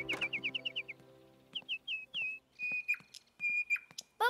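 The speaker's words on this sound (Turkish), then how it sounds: "Canım bülbülüm benim. Ne güzel şarkılar söylüyorsun." A nightingale sings close by in quick repeated chirps and whistled notes, pausing between short phrases, with no voices.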